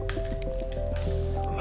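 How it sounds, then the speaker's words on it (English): A water spell cast at wolves in a video game gives soft squishy, splashing bursts repeated over steady background game music. "Let's shoot some water at them."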